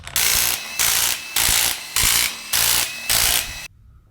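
A ratchet wrench spinning bolts off the two-piece carrier of a truck differential, six loud, close bursts of rapid clicking in a regular rhythm, each separated by a short pause, then a quiet tail with no talk.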